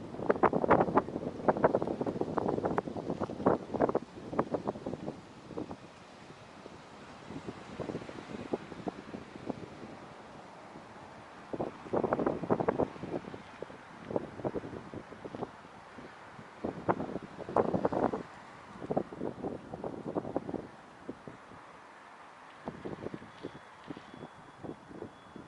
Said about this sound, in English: Got a little wind here.